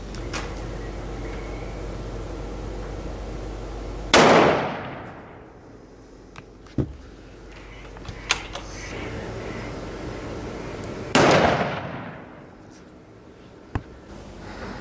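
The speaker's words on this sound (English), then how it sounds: "we pretty much shot this 270 in" Two sharp, loud rifle shots from a .270 being sighted in, spaced several seconds apart, each leaving a long fading echo over a quiet outdoor background with a few faint clicks.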